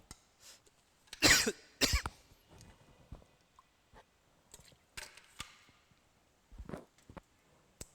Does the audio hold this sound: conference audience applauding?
no